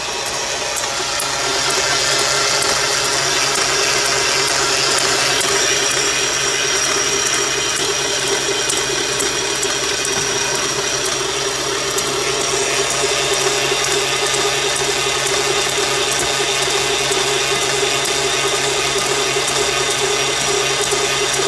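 A mortar mixer runs at medium speed, blending mortar for test cubes in a steady, loud, continuous mechanical whir and rattle that holds unbroken throughout.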